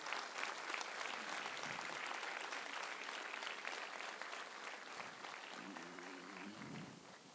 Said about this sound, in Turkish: Ve kuvvetli bir alkışı camiamız için istiyorum.